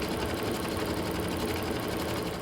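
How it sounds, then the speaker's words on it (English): An embroidery machine stitches a design onto a pillowcase, giving a steady, fast mechanical whir and rapid needle rattle that stays constant and close. "Embroider the design."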